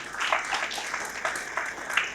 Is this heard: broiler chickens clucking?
no